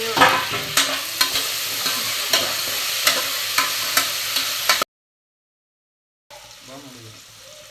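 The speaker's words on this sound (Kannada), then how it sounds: "ಟೊಮೊಟೊ ಹಾಕ್ಕೊಳತ್ತೀನಿ. ಇನ್ನು ಸ್ವಲ್ಪ ಹೊತ್ತು ಫ್ರೈ ಮಾಡ್ತೀನಿ." Tomatoes sizzle and fry in a pan for red pulao, with regular scraping stir strokes over a steady hiss, followed by a silent gap and then quieter frying sounds.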